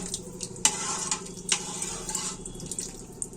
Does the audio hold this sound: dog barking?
no